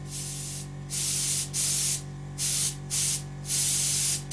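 An airbrush blows bursts of air each time its trigger is pushed down, five or so close, loud hissing blasts separated by short silences over a steady low hum.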